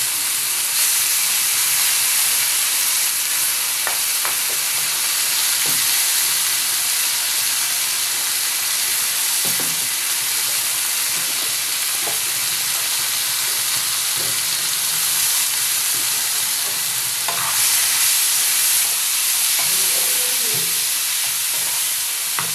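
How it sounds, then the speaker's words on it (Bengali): Ginger garlic paste frying in a pan for a crab curry, giving a constant hissing sizzle that holds for a long stretch, with a few soft stirring knocks and scrapes. "আর এখানে দিয়ে দেবো আদা রসুন বাটা।"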